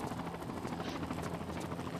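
Helicopter in the Tomb Raider video game, a steady low rotor thrum with a dense whooshing wash, continuous and fairly close throughout, with no talk over it.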